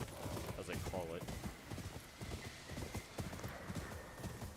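A horse's hooves clip-clop steadily at close range in Ghost of Yōtei, with a brief whinny partway through, all beneath ongoing talk.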